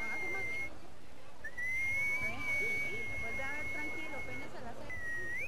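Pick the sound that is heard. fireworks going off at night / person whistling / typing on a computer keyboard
person whistling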